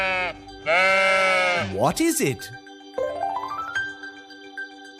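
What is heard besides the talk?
sheep bleating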